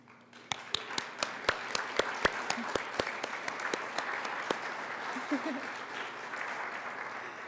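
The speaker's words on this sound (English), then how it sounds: "Fellows, please stand so we can give you a round of applause." Applause for standing fellows at a community summit opens with a row of sharp, evenly spaced claps in a rhythmic beat, then dissolves into a softer, continuous patter of many hands in a fairly distant room.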